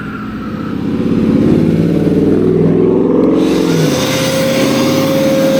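A neighbor's vehicle drives past close by: a loud engine growl swells in, holds with a throaty revving tone, then settles into a steady hum.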